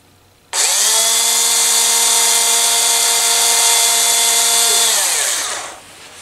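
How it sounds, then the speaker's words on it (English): A power drill drives a bit straight through the body of a wooden turned snowman, making a loud, steady whine that holds for about four seconds and then winds down as the motor stops. "drill right straight through"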